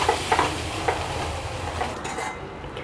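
Onion chutney sizzles and bubbles steadily as it boils in a pan, with a few light clinks of a utensil against the pan early on.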